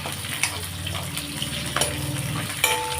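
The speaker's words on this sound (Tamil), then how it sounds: "இப்போது தக்காளி இது நல்லா வதங்கட்டும்" Tomatoes and small onions sautéing in a hot pan for a chutney give a steady close sizzle and hiss with small crackles throughout, no talking.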